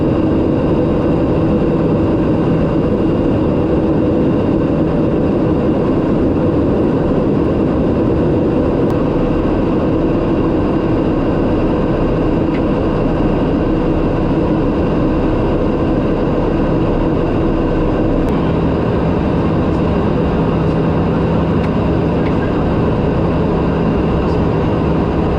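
TBM 940 turboprop aircraft engine in flight, a constant loud drone with a low rumble and steady tonal hum, unchanging for the full length with no talk.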